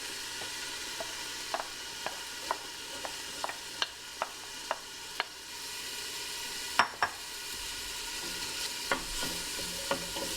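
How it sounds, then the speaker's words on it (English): Onions sweating in hot oil in a soup pot, a steady faint sizzle with a regular series of light stirring clicks and taps, one louder knock midway, no voices. "In our soup pot, we're going to add some oil and bring that up to temperature. We're going to add our onions,"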